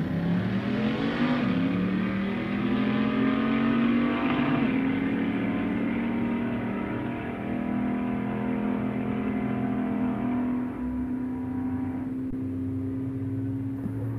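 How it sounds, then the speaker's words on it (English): Drag race between a 1964 Dodge with a Hemi in the bed and a 2001 Mustang: loud, sustained engine roar with rising pitch as the cars accelerate, steady throughout with no talk. "we got Steve Fleckner in that beautiful 64 Dodge with the Hemi in the back of the bed"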